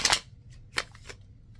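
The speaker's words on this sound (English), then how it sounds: "I think we've got about 2 more shuffles to go" A deck of tarot cards being shuffled at close range: a sharp riffle burst at the start, then a few softer flicks and snaps with quiet gaps between them.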